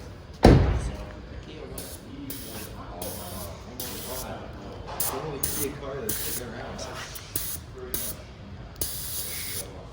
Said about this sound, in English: So now, let the air drain out.